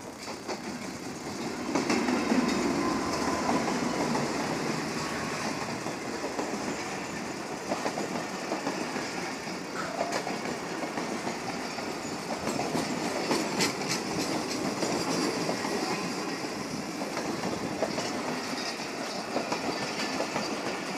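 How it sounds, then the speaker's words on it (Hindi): The Bahauddin Zakaria Express from Karachi to Multan, led by the AGE30 diesel locomotive, rolls past at Chinesar Halt with a continuous rumble, steady clickety-clack of wheels over rail joints and faint squeals, nearby and sustained throughout. "अभी क्रॉसिंग कर रही है चिनेसर हट से AGE 30 इन एक्शन।"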